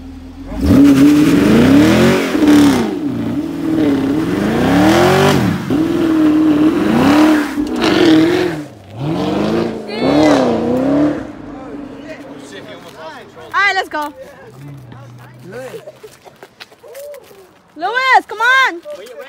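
Car engine revving and accelerating at an outdoor spot, loud and continuous through the first half, with excited shouting voices over it and then intermittent yells as the engine fades.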